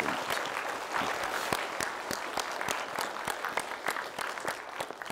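Audience in a parenting talk-concert hall clapping to welcome a child education professor as a speaker, a steady round of applause with distinct individual claps close by throughout.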